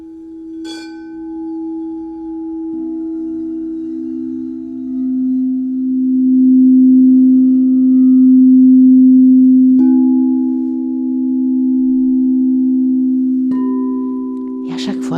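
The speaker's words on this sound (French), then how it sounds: "à faire monter les sons de bol" Quartz crystal singing bowls ring in a meditation setting, giving long sustained pure tones that swell and overlap, with occasional soft strikes adding fresh tones that hang and fade.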